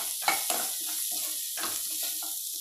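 Tomato frying with turmeric, chilli, coriander and sambar powders for a Chettinad vathal puli kuzhambu gives a close, steady sizzle. Two sharp scrapes of a spoon against the pan come early, and softer stirring follows.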